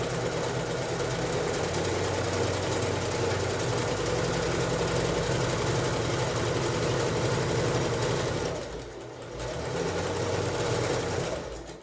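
A sewing machine stitches a fabric face mask tie in a steady, fast mechanical whir, close and continuous, then briefly slows and pauses before running again.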